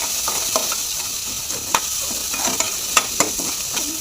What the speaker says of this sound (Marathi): खोबरं आणि कांद्याचं हे आहे ना, आपल्याला याच्यामध्ये टाकून भाजून द्यायचं आहे.